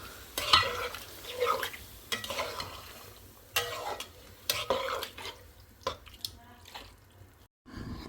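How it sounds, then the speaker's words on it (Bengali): Spiced masala with boiled beef tripe being stirred in a pan, with repeated scraping, clattering strokes at an uneven rhythm over a soft sizzle, close and fairly loud, with no talking. "বটগুলো সব দিয়ে দিলাম, নেড়ে ছেড়ে দিব"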